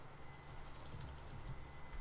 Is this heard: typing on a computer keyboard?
yes